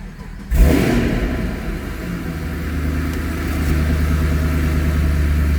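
A 2014 Chevrolet Camaro ZL1 engine cranks and catches, then revs up and settles into a loud, steady rumble close by.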